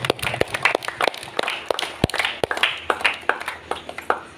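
A church congregation claps in appreciation, producing sharp, irregular hand claps at moderate loudness. They form a loose, uneven patter rather than a dense roar of applause.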